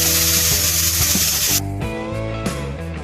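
A stovetop pressure cooker, used to cook rice, releases steam in a loud, close hiss that cuts off abruptly, then bursts briefly again before fading.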